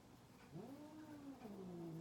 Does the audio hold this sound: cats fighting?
yes